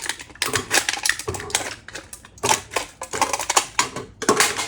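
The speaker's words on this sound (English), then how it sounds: "we're just going to kind of cut this baby up with some scissors" Scissors snip through a thin aluminum can in quick, uneven bursts of crunchy cuts, close up, with brief pauses between strokes.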